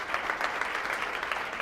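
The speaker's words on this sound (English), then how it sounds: "So a round of applause for this guy," An audience gives a brief round of applause at a marketing talk, a steady patter of many hands clapping, moderately near, with no talk over it.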